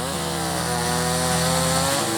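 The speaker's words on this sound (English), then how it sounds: "there were a couple of guys up there chainsaw carving" A chainsaw carves wood with a loud, continuous buzzing engine drone at close range, holding a steady pitch before dipping briefly near the end.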